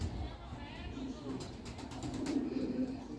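Lahori flying pigeons coo softly in a loft, low rolling calls with a brief flutter of wings, fairly faint and close, while someone talks nearby.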